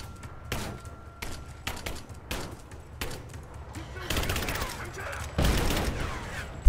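Gunfire while shooting an explosive canister in Rise of the Tomb Raider, a run of sharp shots that builds into denser, louder bursts and ends on a heavier thump.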